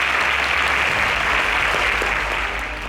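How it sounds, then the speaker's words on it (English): A studio audience at a Nigerian quiz show semi-final bursts into loud, dense applause that holds steady for a few seconds before thinning slightly at the end. "A round of applause for all our Super SPAKs."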